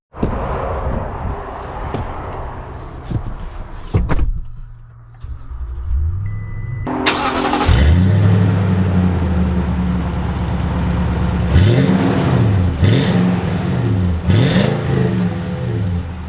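A 2021 Toyota Tundra TRD pickup truck cranks, starts and rumbles loudly, then drives off with repeated rising and falling revs as the engine works through gears, close and steady.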